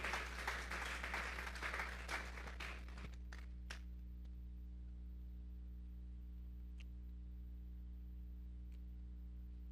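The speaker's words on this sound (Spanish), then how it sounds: "Vamos a darle un fuerte aplauso pues al Señor" Church congregation applauding during a Sunday service, a dense burst of clapping for the first three seconds that quickly fades to a few scattered claps over low room hum.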